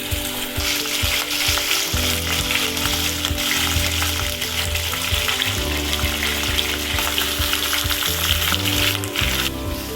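Mutton pieces sizzle loudly in hot oil with green cardamom at the start of a rogan josh, a steady close frying hiss with occasional stirring scrapes.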